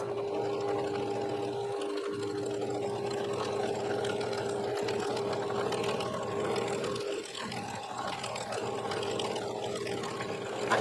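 A sewing machine top stitching a fabric ornament with white thread, running as one continuous close mechanical whir with a few brief pauses and changes in pace.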